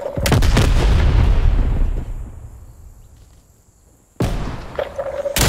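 A grenade blast in the video game Diesel Gunfight: a loud, close boom that rolls off slowly over about three seconds, then a sudden burst of sharp gunfire-like noise cuts back in near the end.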